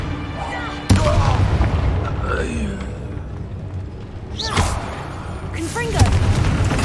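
Bombarda spell blasts in the Hogwarts Legacy video game, with a sharp booming explosion near the start and further bursts later amid ongoing battle noise, over a steady low rumble with voices in the background.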